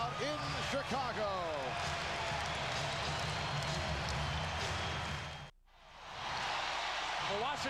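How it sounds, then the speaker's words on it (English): A capacity basketball crowd in Chicago roars through a standing ovation, a loud sustained wash of cheering with sneaker squeaks early on, under an announcer's voice, briefly dropping out before swelling again. "Standing ovation from this capacity crowd in Chicago"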